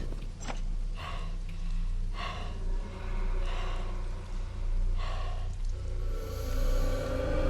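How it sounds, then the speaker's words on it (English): Heavy, ragged breathing with gasps and snorts in a horror game, several loud breaths spaced across the stretch over a steady low hum, with no talking. "Bro, why are you breathing like that?"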